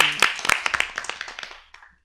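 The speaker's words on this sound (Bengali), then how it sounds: "জোরে হাততালি।" Loud clapping from an audience at a children's rhyme recitation event, a dense burst of many hands that peaks early and then thins out and fades over about two seconds.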